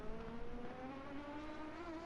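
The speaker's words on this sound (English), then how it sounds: "Listen to that Vantage roar." Aston Martin Vantage race car at Donington Park, a steady droning engine roar with sustained harmonic tones held at constant pitch, moderately loud and continuous without talk.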